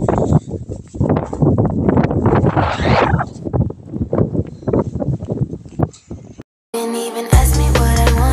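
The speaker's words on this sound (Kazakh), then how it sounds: "Желдің кесірінен дауысым естілмейді." Wind buffets the microphone on the seashore at Aktau, Kazakhstan, in heavy gusty rumbling bursts that cut out abruptly near the end as music takes over.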